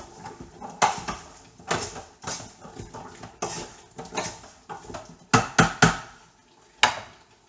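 Spoon stirring rosemary into chopped vegetables in a pressure cooker pot for venison stew, with repeated close clinks and scrapes against the metal in an uneven rhythm, no talking.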